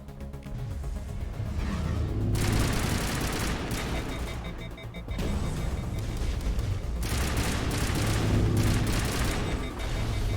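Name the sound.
weapon firing explosive rounds in video game Mass Effect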